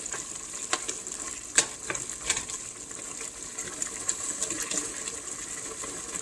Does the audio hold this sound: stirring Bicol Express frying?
yes